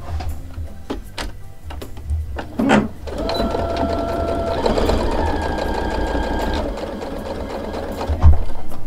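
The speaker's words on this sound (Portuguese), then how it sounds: "E eu vou unir primeiro o solado. Vou usar uma costurinha reta mesmo." A sewing machine runs a straight stitch joining the sole of a baby bootie, a close, steady mechanical whirring and ticking that starts after a few separate clicks and keeps going for several seconds.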